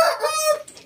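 A pure Japanese shamo hen in a yard gives a single short, close, loud crowing call that fades quickly.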